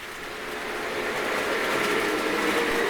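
A Hornby model locomotive, the 395, runs on a digitally controlled layout, giving a steady close rolling rumble and whirr of wheels on track that builds slightly and continues without a break, with no voices.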